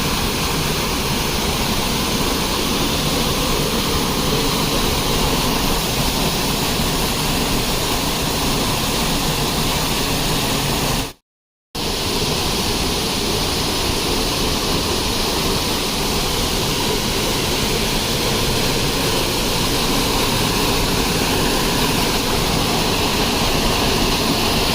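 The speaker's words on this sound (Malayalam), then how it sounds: "വെള്ളച്ചാട്ടത്തിൻ്റെ അടുത്തെത്തിയിരിക്കുകയാണ്." Chilandhiyar waterfall near Vattavada, heard from close by as a loud, unbroken roar of rushing water with one brief gap of silence partway through.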